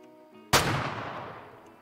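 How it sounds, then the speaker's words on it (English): A hunting rifle fired at a moose in the hunting game Way of the Hunter: one sharp, loud shot cracks out after a quiet moment, then rolls away in a long, fading echo. "we're definitely gonna have to take the shot"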